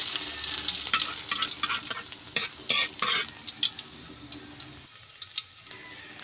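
Garlic frying in hot oil in a pan, crackling sizzle with bursts of spatters and stirring that gradually quieten toward the end.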